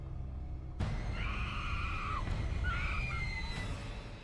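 A double scream in a Supernatural episode: two loud, piercing screams sound back to back over a dense, noisy background, a long wail followed by a shorter cry, up close.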